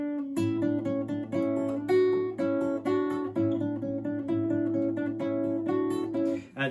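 A later passage of Mendelssohn's Canzonetta played on a melodic instrument, with a steady, fairly loud line of sustained notes over a repeating pulsing accompaniment, heard close and alone with no talking.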